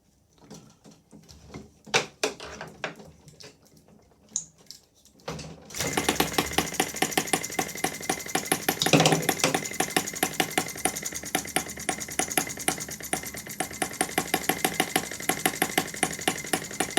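A Sterling Kit M12b spark-ignition petrol model engine catches after a few pulls and then runs steadily with a loud, rapid buzzing drone that carries on without a break.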